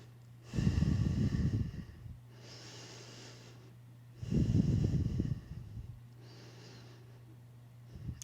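Slow, deep yoga breaths come close to the mic: two long, noisy inhales or exhales a few seconds apart, each followed by a softer airy breath, over a low steady background hum.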